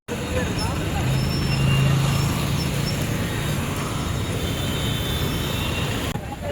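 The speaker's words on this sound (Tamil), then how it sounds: "ட்ரெயின் பார்த்தீங்கன்னா dot on time 8:50க்கு Nilambur road reach ஆயாச்சுங்க." A train pulls into Nilambur Road station in a steady, continuous rumble with a brief higher tone early on, while people talk in the background.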